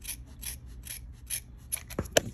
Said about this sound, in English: cut that as well, like trim the extra little pieces